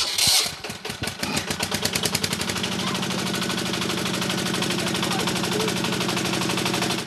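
A small tractor engine cranks with a few loud coughs, catches, and settles into a steady, rapid chugging idle close by.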